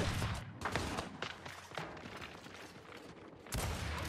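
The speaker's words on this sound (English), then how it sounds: "This kid's shooting" Dense, continuous gunfire in the Gears 5 video game, a sustained close burst of rapid shots lasting the whole stretch, with a heavy fresh volley near the end.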